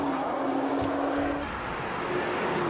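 A Nissan GT-R sports car drives on the Nürburgring Nordschleife, a loud, continuous engine roar with a passing sweep, no talking.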